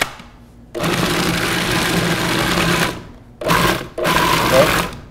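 Food processor running loud and steady as it purees a mixture of sauteed mushrooms, shallots, herbs and brandy, whirring in two long bursts with a brief pause between, with a little talk faintly underneath.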